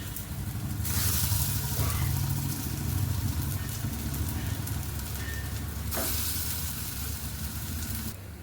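Vegetable cutlets shallow-frying in oil in a kadhai give a steady close sizzle with a low rumbling undertone, holding level throughout without any talking.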